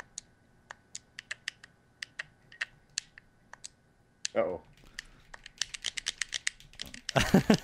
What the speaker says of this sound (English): you can probably hear both of our gamepads just kind of clicking away.